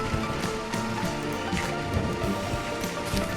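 Steady rain falls in a rural village setting, a dense, even patter of drops spread across the whole clip with no pauses, close and continuous, with no voices heard.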